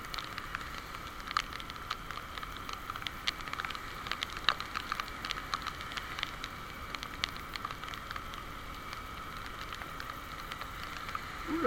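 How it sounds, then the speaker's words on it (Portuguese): Heavy January rain pours down in Maceió during a thunderstorm, a dense steady patter of drops hitting surfaces nearby, constant and fairly quiet with scattered sharper splashes, and no talking. "Chuva de janeiro chegou e com trovoadas e relâmpagos."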